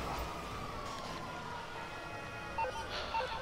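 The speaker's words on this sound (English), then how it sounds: "Alright, turn on the sirens." A police siren in GTA 5 wails steadily through a busy mix of engine noise and game effects, with a couple of short electronic beeps near the end.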